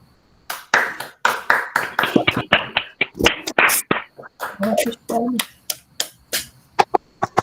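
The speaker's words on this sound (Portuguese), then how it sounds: "abram seus microfones para dar uma salva de palmas aqui, como é tradição do evento" An online audience claps over open microphones at the end of a physics colloquium talk, giving a scattered, uneven series of sharp individual claps and slaps from several participants, close and irregular, with gaps between bursts.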